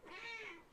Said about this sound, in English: my cat is meowing again